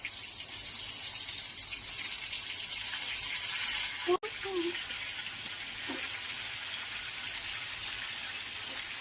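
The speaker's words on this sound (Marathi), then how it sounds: "वांगे चांगले फ्राय करून घ्यायचे" Eggplants frying in a pan with crushed garlic, a steady close hiss of sizzling oil that runs throughout, broken by a brief clatter of stirring partway through.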